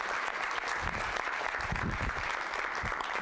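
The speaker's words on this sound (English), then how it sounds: "please give a round of applause for Neil Harbisson" Steady, dense applause from a lecture audience welcoming Neil Harbisson, a continuous even patter of many hands filling the room at moderate loudness, with a faint murmur beneath.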